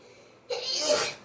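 A single sudden sneeze, close and sharp, bursting out after a moment of near silence.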